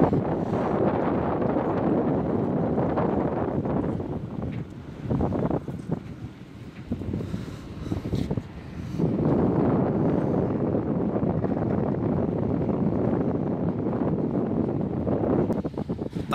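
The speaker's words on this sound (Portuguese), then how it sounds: "Tá ventando muito." Strong wind buffets the microphone aboard a ferry crossing the São Francisco River, a loud, roaring rush that dips briefly before surging again, mixed with low water and engine rumble.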